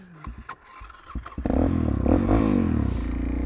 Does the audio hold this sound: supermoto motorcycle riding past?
yes